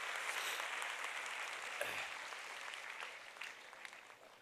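Students at a counselling programme applaud a speaker in a steady burst of hand-clapping that holds through the clip and tapers slightly at the end, fairly soft and heard from within the audience.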